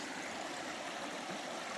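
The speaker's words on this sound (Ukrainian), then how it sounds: "тече річка свіча, це початок" The Svicha river flows at a ford, a steady close rushing of water with no voices, continuous and even in level.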